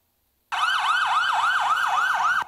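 An ambulance siren wails in rapid, repeating rising-and-falling sweeps, loud and close, starting abruptly after a moment of silence and running steadily on its own.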